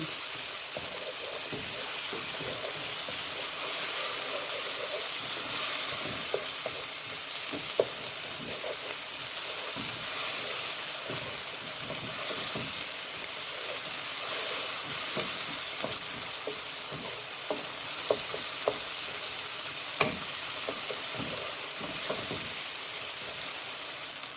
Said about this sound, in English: And just let it saute.